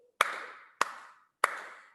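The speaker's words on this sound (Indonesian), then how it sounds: "Tepuk 3 kali." Three sharp hand claps sound close and evenly spaced, each with a short echo, in a kindergarten class.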